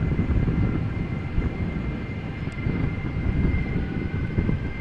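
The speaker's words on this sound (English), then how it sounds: "Delta Airlines Flight 47, outbound to New York JFK. This A330 is 15 years old" Continuous low rumble of a Delta Airlines Airbus A330 departing Amsterdam Schiphol, a moderately loud, sustained engine drone from some distance, without talk.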